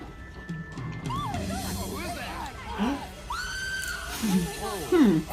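High, wavering screams rise and fall among several voices talking and shouting, with sharp shrieks near the end.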